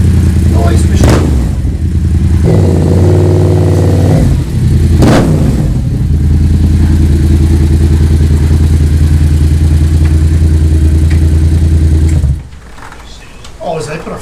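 A 2006 Kawasaki ZX10R sport bike's engine runs close by with a loud, steady idle and brief revs. The engine cuts out near the end, leaving quieter background noise.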